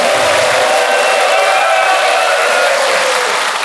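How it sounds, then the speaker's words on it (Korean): A large crowd of Vietnam War veterans and their families at an outdoor rally applauds in loud, dense, sustained clapping that continues unbroken on its own. "우리 여러분들을 위해서 같이 환영의 박수를, 단결의 박수를 보내주시기 바랍니다."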